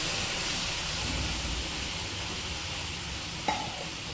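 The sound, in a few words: stirring milk into bread sandesh mixture in a pan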